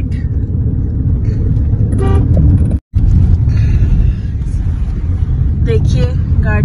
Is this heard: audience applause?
no